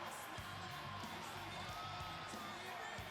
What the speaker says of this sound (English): This Japan crowd eating it up tonight as CM Punk is here.